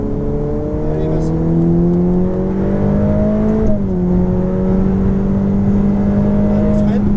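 A Ferrari F8 Tributo accelerates on a race track, its engine note a loud, steady, close drone that climbs in pitch, dips briefly midway, then holds and rises again.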